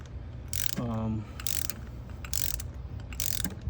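Ratchet wrench hand-tightening a spark plug in a 2020 Hyundai Elantra engine, with four short bursts of quick metallic clicking spaced about a second apart, close and fairly quiet.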